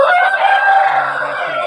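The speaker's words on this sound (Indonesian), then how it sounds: "Nah ini jenis-jenis ayam Burma" A Burmese rooster crows loudly and close, one long drawn-out call.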